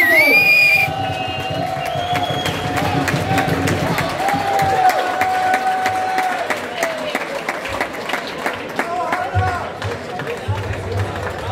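A boxing audience at a Danish boxing event in Vejle, applauding and cheering in a loud, dense crowd roar with rapid claps and scattered whistles throughout.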